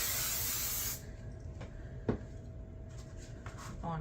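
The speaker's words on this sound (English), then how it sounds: "I'm just going to spray" A steady aerosol spray of temporary adhesive onto an embroidery hoop hisses for about a second, then stops, followed by a few soft clicks and a light knock.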